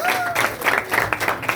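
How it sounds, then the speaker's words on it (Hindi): Church congregation at a Sunday meeting in Ludhiana breaking into loud applause, a short burst of clapping from a crowd with voices mixed in and a brief tone at the start. "जोरदार तालियों के साथ आप जाएं जी।"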